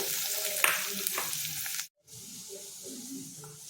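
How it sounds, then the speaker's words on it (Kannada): Chopped garlic and finely cut onion fry in a large spoonful of oil in a pan, giving a steady loud sizzle with stirring scrapes. It breaks off briefly in the middle, then resumes. "ಬಾಣಲೀಲಿ ಒಂದು ದೊಡ್ಡ ಚಮಚ ಎಣ್ಣೆ ಇಟ್ಟಿದ್ದೀನಿ ಅದಕ್ಕೆ ಬೆಳ್ಳುಳ್ಳಿ ಹಾಕ್ಕೊಳ್ತಾ ಇದ್ದೀನಿ ಅದಕ್ಕೆ ಈರುಳ್ಳಿನ ಹಾಕ್ಕೊಳ್ತಾ ಇದ್ದೀನಿ"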